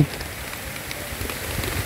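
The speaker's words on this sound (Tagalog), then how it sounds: "lumalakas ang ulan" Steady rain patters down as a dense, close hiss, swelling slightly toward the end.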